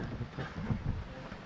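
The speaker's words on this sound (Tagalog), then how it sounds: "Lakas ng hangin." Strong wind at a beach campsite in Dingalan, Aurora buffets the microphone in low, rumbling gusts, a rough continuous roar close up.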